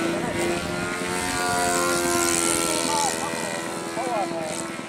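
Small glow-engine S-bach model propeller plane running steadily at close range, a continuous buzzing drone with shifting pitch, while people talk over it.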